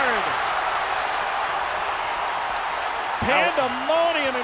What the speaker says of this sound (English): Pandemonium in Fayetteville right now.